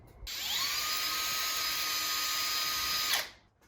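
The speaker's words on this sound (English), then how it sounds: "Let's just chuck a step drill into it." A high-pitched power drill with a step drill bit boring a hole in metal on a 1934 Chevy hot rod whines steadily for about three seconds, spinning up at the start and winding down at the end, loud and close.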